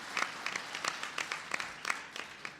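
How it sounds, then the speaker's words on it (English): A conference audience at a tribal nations gathering applauds for Tom Vilsack with fairly quiet, loose, scattered claps that continue in uneven bursts. "Give Tom Vilsack a round of applause."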